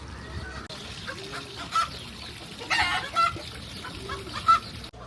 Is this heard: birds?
yes